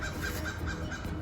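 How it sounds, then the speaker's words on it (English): A bird gives a series of evenly spaced calls, about five in a row, over a low steady background. "And the bird's going off"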